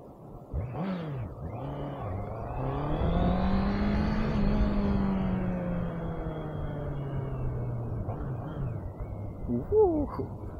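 A Honda inline-four big bike engine revs up and holds a smooth, rising wail before easing back down over several seconds, loud and close, with speech faintly mixed in.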